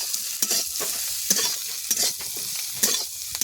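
Turmeric and spices fry in hot oil during Bengali village cooking, giving a steady close sizzle broken by repeated scraping stir strokes at an uneven rhythm, with no talking.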